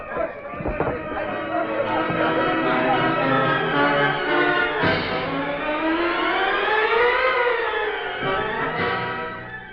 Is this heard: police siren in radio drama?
yes